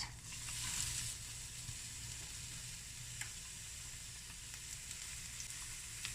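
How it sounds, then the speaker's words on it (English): Chopped onions frying in heated oil in a pot at home, giving a steady, even sizzle that holds at a constant level throughout with a faint hiss over it and no talk. "Our oil has heated up nicely, so I'm going to be adding my onions first."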